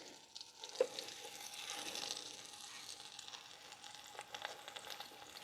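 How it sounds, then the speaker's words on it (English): A beef roast sizzles steadily in hot oil, a soft continuous crackling hiss with occasional pops, fairly quiet. "You hear that sizzle?"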